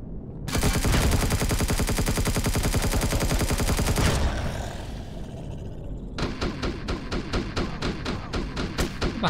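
Enemy gunfire in Empyrion Galactic Survival, a loud sustained burst of rapid automatic fire for several seconds, a short pause, then steady repeated shots or thuds at a slower rhythm.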